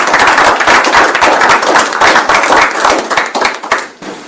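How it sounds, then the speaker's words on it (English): Applause at a city commission meeting, a small group clapping loud and close in uneven bursts that thin out and fade near the end. "Let's give a applause."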